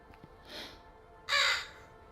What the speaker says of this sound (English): That bird.